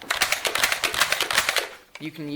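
A Nerf Disruptor, a six-shot rotating-barrel blaster, slam-fires in a loud, rapid string of clicking, clacking shots up close, followed by a brief voice at the end.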